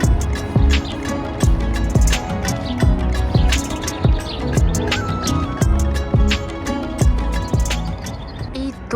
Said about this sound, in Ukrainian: Тут ви можете почути спів пташок.